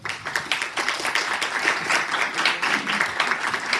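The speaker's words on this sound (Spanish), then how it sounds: "Démosle un caluroso aplauso," An audience at a school education conference welcomes a speaker with warm applause, a dense, even crackle of many hands clapping that continues throughout at moderate volume.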